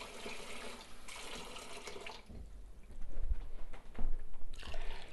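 Water from a can pours into a bowl for a pork chop casserole in a home kitchen, a steady splashing stream running for a few seconds near and alone.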